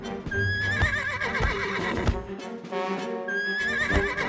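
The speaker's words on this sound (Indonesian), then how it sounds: "Wah, kuda sembrani sudah tidak sabar menunggumu Nirmala." A winged horse whinnies loudly in a children's cartoon, a long shrill neigh with wavering pitch, followed by a second rising whinny amid busy animated sound.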